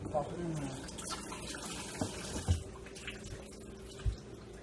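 Tap water running over a tonic herb being rinsed, steady splashing flow with a few louder knocks against the sink, close, and a voice speaking briefly under it.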